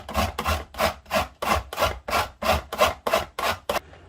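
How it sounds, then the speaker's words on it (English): Orange zest and peel are grated over a bowl in about ten quick, even rubbing strokes, each a short dry rasp separated by brief pauses, close and moderately quiet with no voices. "we need the zest and the orange peel. So we'll just rub that down there"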